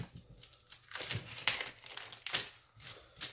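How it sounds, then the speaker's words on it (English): A chef's knife cuts away a plastic cryovac bag from a beef rib loin, producing sharp crinkles and crackles of plastic in quick irregular bursts, close and fairly quiet, with no talk. "So they usually come in a cryovac bag, and I'm going to just cut that away right now."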